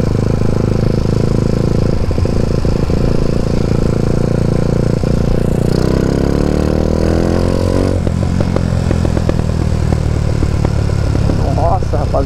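A 223cc fuel-injected moped engine drones steadily while riding on a highway, loud and close with wind buffeting, revs climbing midway before shifting.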